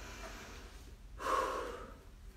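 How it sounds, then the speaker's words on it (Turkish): A single deep inhale-exhale at home exercise, a breathy rush swelling in the middle and fading, heard close and alone against a quiet room. "Evet, derin derin nefesler alıyorum."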